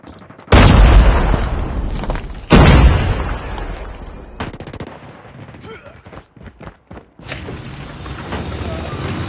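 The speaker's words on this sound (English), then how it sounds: "Flashbang!" Call of Duty Mobile gameplay on a Samsung Galaxy S24 with loud booming blasts, including a flashbang grenade, followed by rattling gunfire and game noise while a voice talks.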